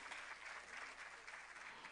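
Audience applause at a music performance, a dense, steady patter of many hands clapping, fairly faint and distant, lasting the whole moment with no speech over it.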